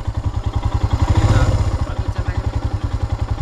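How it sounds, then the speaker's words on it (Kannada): A motorcycle engine putters past at close range on a road, with a steady rhythmic low throb and some clattering, rising slightly in the middle. "ಬೈಕ್ ಹೋಗುತ್ತಲ್ಲ?"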